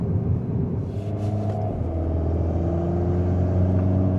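A car's engine rumbles steadily close by on the Furka Pass in the Swiss Alps, with a low droning hum and a mild rise in revs midway, heard without any talk.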